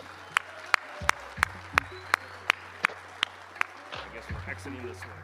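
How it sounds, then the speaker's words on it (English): Sparse, evenly spaced claps ring out one by one from an audience at an awards ceremony, then give way to a looser burst of clapping, with voices underneath. "So let's give these Einsteins a round of applause."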